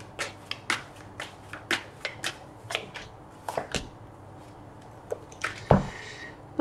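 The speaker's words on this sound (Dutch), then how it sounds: "Dan de kaarten schudden om te kijken wat deze week voor jou gaat brengen" A deck of tarot cards is shuffled by hand in a run of crisp, close riffling flicks and snaps, coming in quick irregular bursts with short pauses between, and no one speaking over it.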